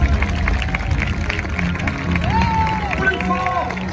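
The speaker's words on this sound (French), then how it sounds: "Romains, Romaines, applaudissez à tout rompre" An audience at the Parc Astérix diving show applauds and cheers as a broad wash of clapping and crowd noise. An announcer's voice and whistles carry over it.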